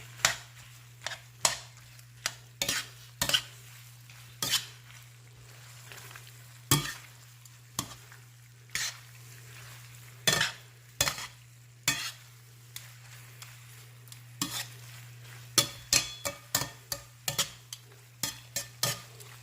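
Jerk chicken pasta frying and being stirred in a pan on a stovetop, a steady sizzle broken by frequent sharp scrapes and clacks of a utensil against the pan, close and fairly loud with no talking.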